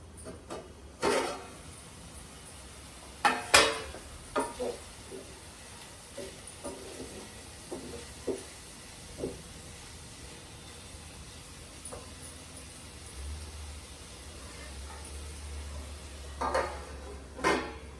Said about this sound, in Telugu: మధ్య మధ్యలో కలుపుతుండాలండి